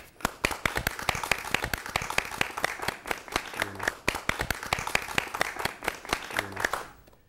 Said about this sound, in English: I think that you all deserve a round of applause.